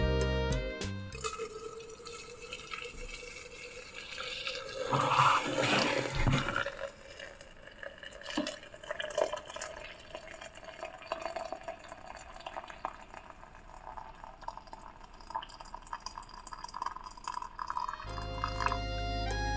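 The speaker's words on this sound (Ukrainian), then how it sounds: "І заливаємо це все окропом." Boiling water poured from a kettle over spruce needles and dried rose petals for tea, a soft trickling pour that rises and fades with drips, quiet and close, no talking.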